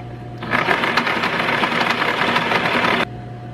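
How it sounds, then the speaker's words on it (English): A sewing machine runs a zigzag stitch to attach decals, whirring in one steady close burst of about two and a half seconds with a rapid rhythmic clatter, and a low hum before and after. "Let's do a zigzag stitch."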